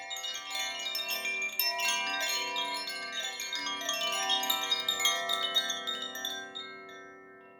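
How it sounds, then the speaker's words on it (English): Koshi chimes ring out in a continuous shimmer of sustained, overlapping metallic tones, bright and close, swelling and fading gently without any voices. "are koshi chimes"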